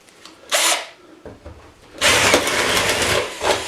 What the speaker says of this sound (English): this cheap drill's gonna get a workout today